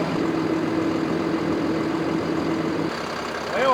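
New Holland T7.300 tractor engine runs steadily at a low, even drone, close and continuous, easing slightly near the end with a brief higher tone appearing.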